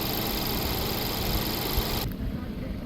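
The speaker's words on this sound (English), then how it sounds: "Here we have the engine with no major noises coming from it" A 2017 Ford Edge with a 2-liter turbo engine idles close by with a steady, even hum and a low rumble, and the tone shifts slightly near the end.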